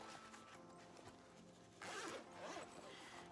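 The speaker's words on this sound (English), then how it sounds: "close it and unzip that part," Zipper on a double-zip compression packing cube, a couple of short rasping pulls in a quiet room, close and soft.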